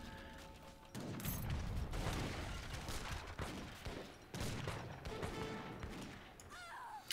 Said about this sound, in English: Lots of artillery.